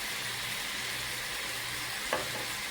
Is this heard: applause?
no